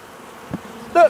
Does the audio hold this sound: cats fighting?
no